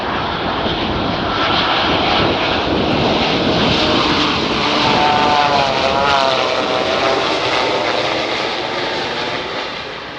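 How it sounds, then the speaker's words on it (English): Boeing 787 jet flying past at a Boeing test facility, a loud, continuous roaring rumble that swells gradually as it passes overhead and then begins to fade, heard alone without voices. "Here's another example of a 787 coming in at a Boeing test facility. And listen as it flies by."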